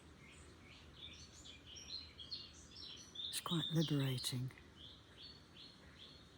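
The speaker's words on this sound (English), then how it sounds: "if you can get to a place where you can hear the birds singing" Birds sing outdoors with faint, scattered chirps and tweets throughout, while someone speaks briefly in the middle.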